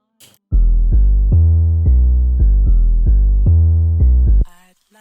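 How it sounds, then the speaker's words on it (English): A deep, booming 808 sub bass plays a sustained rhythmic pattern of long low notes, loud and alone, ending abruptly. "this is my 808, that is mainly sub frequencies because it sounds like this"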